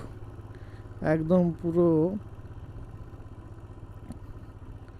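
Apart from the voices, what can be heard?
motorcycle riding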